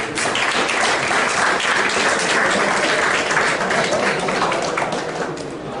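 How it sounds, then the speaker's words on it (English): Sustained audience applause fills a university hall, loud and dense clapping from many hands holding steady for several seconds before easing slightly, with faint talk underneath. "And the club, the audience also clapped to the same effect."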